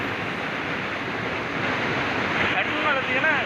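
At the base of Devon Falls in Sri Lanka's Nuwara Eliya district, water pours in a constant broad roar mixed with wind buffeting, and a voice briefly surfaces over it toward the end.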